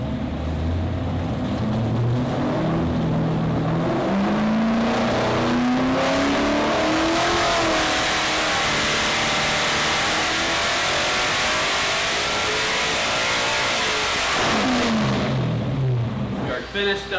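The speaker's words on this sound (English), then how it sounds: "We are finished up here at LME with the engine dyno." A truck engine revs hard on an engine dyno, its pitch climbing steadily through a long sustained pull, dropping briefly and then rising again near the end, loud and close.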